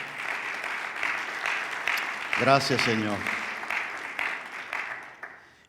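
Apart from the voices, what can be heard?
applause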